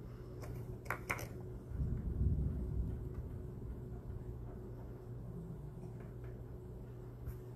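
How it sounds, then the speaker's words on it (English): Low, distant rumble of thunder rolling through, with a few faint clicks and taps nearby. "The thunder sounds amazing."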